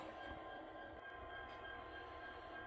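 A Santa Fe model train runs around a shelf layout with a steady, soft rolling rumble and faint wheel noise, continuous and fairly quiet throughout.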